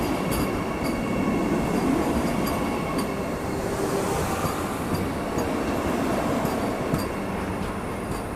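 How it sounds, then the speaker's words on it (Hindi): A Kasaragod Vande Bharat train crawls past very slowly over track under repair, giving a steady, close rumble of wheels and rail with faint squeals and light clicks throughout, no voices. "ये मेरे ख्याल से कासरगोड वंदे भारत है, जो कि बिल्कुल क्रॉल करते हुए आगे आ रही है।"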